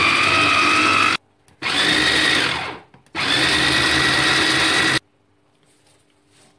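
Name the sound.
electric blender mixing herbs, onion and garlic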